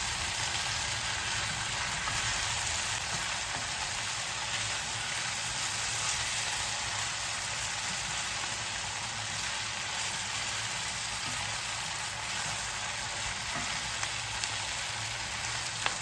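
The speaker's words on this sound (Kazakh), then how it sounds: "Қалауларыңыз бойынша 1 ас қасық томат пастасын қосып, араластырып 1-2 минут қуырамыз." Lagman noodles stirred with a spoonful of tomato paste fry in a hot pan, giving a steady, close, unbroken sizzle that holds for the whole stretch with no voices.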